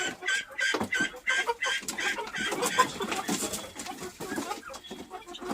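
Several guinea fowl hens cluck and squawk close by in repeated bursts, a busy, uneven chorus of farmyard calls.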